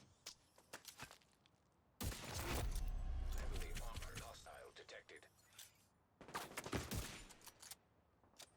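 Enemies blind-fire in The Division 2, a dense loud fusillade of gunshots in two long bursts with scattered shots between, mixed with game sounds and a voice talking.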